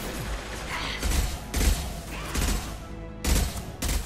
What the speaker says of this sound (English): Shot you in the forehead.